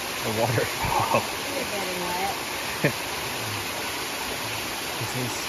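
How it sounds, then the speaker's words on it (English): Water rushing down a steep mountain hiking trail on a ridge in the White Mountains during wet weather, a steady broadband roar under intermittent nearby talk. "The trail is literally a waterfall."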